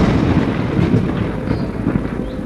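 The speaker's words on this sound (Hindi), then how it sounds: "रात हो जाती है लेकिन बारिश रुकने का नाम नहीं लेती।" Thunderstorm with heavy rain in a cartoon: a dense, steady roar of pouring rain with low rumbling thunder underneath, continuous and fairly loud throughout.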